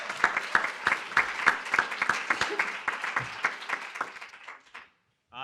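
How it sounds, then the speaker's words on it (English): An audience at a women's policy conference session on workforce development applauds a speaker, a steady, dense burst of clapping that thins and fades into silence near the end. "So we can give her a big round of applause, please."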